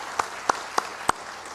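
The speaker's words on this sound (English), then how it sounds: "we should give them a big applause" A few sparse hand claps ring out at the CII Energy Efficiency Summit 2022, four separate sharp claps spaced evenly apart over quiet room tone.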